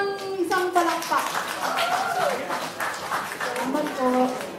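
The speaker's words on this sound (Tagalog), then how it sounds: "Bigyan po natin ng isang palakpak." A short burst of clapping from a small crowd at an 80th birthday party rises under a voice speaking through a loudspeaker, blending with ongoing chatter.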